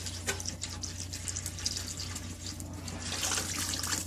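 Bottled water pours steadily into a pan set in the center of a smoker for pecan-smoked ribs, a continuous close splashing and trickling that swells slightly toward the end, with no talk.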